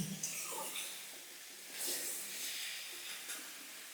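Cauliflower frying in oil in a pan for a creamy cauliflower rezala, a steady soft hiss and sizzle with faint shifting bursts, heard alone at low level.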